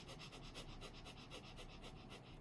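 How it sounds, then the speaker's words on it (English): Rapid breath-of-fire yoga breathing through the nose, a quick, even series of about a dozen sharp huffing exhalations, close and fairly quiet with no talk. "You can hear all these wonderful sounds I'm making with the fancy breathing."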